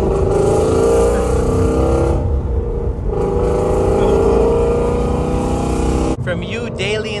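A 2018 Shelby GT350 Mustang engine roars loudly and steadily from inside the car while driving, with a brief dip in intensity around two seconds and a shift near the end, and people talking under the noise.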